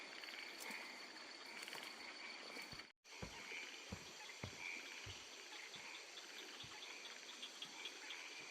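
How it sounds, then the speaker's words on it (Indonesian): Katak polontong frogs croak at night, soft repeated calls over a dense, steady chorus of insects, with a brief dropout partway through and no talking. "Katak polontong."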